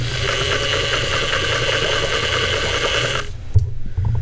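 A Pfaff 260 sewing machine runs at speed, its belts driving the full rotary hook and bobbin: a close, loud, steady mechanical whir and hum that stops abruptly near the end, followed by a few brief knocks.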